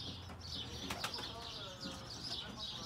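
Birmingham roller pigeons in a loft: a brief burst of wing flapping near the one-second mark over continuous soft chirping and cooing from several birds, with a low background hum.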